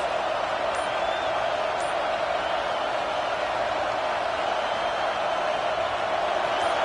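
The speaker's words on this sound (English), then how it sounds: "this crowd is making it miserable on this offense" A stadium crowd in a college football video game, Ohio State against Nebraska, roars as a steady, loud wash of noise with no letup.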